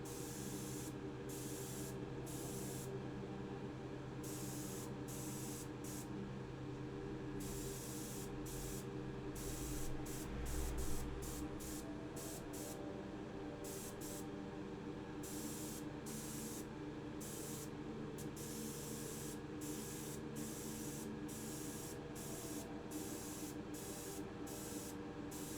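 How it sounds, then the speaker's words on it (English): An airbrush sprays Vallejo Sky Blue paint onto a Siku Mercedes 230SL diecast model, a faint, steady airy hiss with a rhythm of short on-off bursts throughout, with no voices. "For the Siku model, I airbrushed 2 coats of Vallejo Sky Blue"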